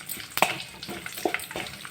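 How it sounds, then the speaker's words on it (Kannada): Spices for tempering crackle and sizzle in hot oil in a pan, with close, loud pops and a steady hiss and no talking. "ಚೂರು ಒಗ್ಗರಣೆ ಕೊರ್ನಾಂಡು"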